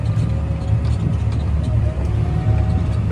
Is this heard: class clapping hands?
no